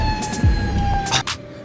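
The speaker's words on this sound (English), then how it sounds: "we got the ambulance right in front of us" Emergency siren from an ambulance in city traffic, a loud near wailing tone with sliding pitch and short bursts of street noise around it.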